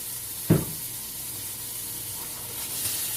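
A teaspoon of garlic sizzles in a pan for a plant-based vegan lasagna, a steady even hiss close by, with one brief knock near the start.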